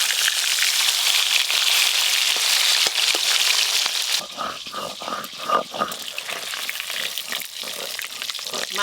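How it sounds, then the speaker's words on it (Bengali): Rohu fish fry in hot oil, a loud broad sizzle for the first few seconds, then it drops to a softer crackle with clinks and stirring sounds. "মাছগুলো খুব ভালো করে লাল লাল করে ভেজে নিয়েছি, আবার তুলে নেব।"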